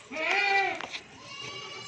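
A goat bleats loudly on a Rajanpuri goat farm, one long wavering cry followed by a brief second call and quieter farm background.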